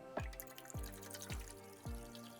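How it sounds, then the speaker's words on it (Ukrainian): Cleaning liquid poured into the tank of a BAKU 9050 ultrasonic cleaning bath, heard as a soft, close trickle with a few faint drip-like splashes and no talking. "Наливаємо нашу рідину."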